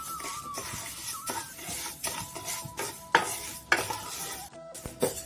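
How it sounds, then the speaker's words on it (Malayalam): Moong dal being dry-roasted in a pan for parippu payasam, with a steady rhythm of scraping stir strokes and gentle rustling of the lentils, close and moderately loud, no talk. "ഇത് നമുക്കൊന്ന് വറുത്തെടുക്കാം."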